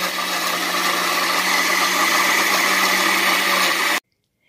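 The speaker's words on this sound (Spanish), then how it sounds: "ya teniendo todos los ingredientes en mi licuadora, en la batidora, vamos a proceder a licuarlo todo" Blender whirring through face mask ingredients, a loud, continuous motor roar held steady for about four seconds before cutting off abruptly into silence.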